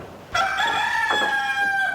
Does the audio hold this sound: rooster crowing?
yes